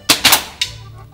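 Three sharp airsoft pistol shots crack out close by in a pirate-style duel, two in quick succession and then a third after a short pause.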